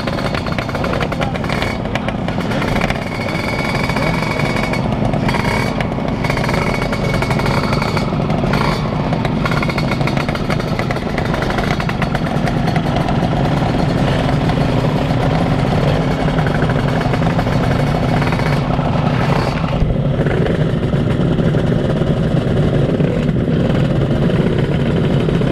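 A 2002 Yamaha F1ZR two-stroke motorcycle engine is revved hard at full throttle, a loud, sustained, raspy buzzing roar held close for a long stretch with slight dips and surges.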